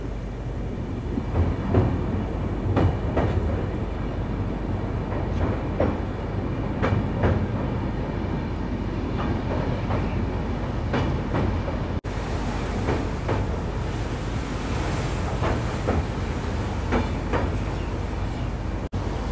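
A train running from Kolkata toward Kalimpong, near the Teesta river and heading through a tunnel into Sikkim, makes a continuous heavy rumble with repeated rhythmic wheel clacks, loud and close.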